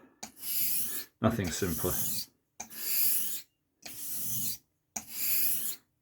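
A straight razor being stroked across a 1000 grit whetstone to set the bevel, five rhythmic rasping passes separated by short silences, close and clear, with someone briefly speaking over one pass.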